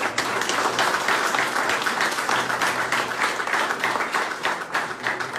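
Sustained applause from an audience at a provincial election candidate's presentation, dense steady clapping filling the whole stretch at an even level.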